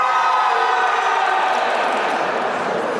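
A party crowd lets out a loud, sustained cheer that fills the room evenly for a few seconds without any single voice standing out.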